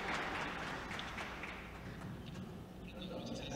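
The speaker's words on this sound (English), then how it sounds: "An applause for our leader." An audience at a LAC 2023 technical session on reverse DNS for IPv4 and IPv6 applauds its leader with steady, moderately loud clapping, with some voices mixed in through the brief burst.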